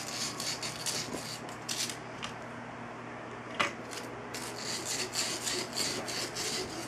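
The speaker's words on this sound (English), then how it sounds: "I'm gonna hit this with some of the sandpaper and then I'll go back over it with some polish" Hand sanding of a Mosin Nagant rifle action with 400 grit sandpaper, a steady close scratchy rasp with brief strokes and a sharp tap partway through, alone without talk.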